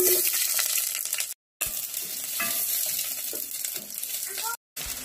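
Pork sizzling and being stirred in a hot pan, sautéed before going into sinigang, a steady close crackle with scraping stirs and two brief cutouts.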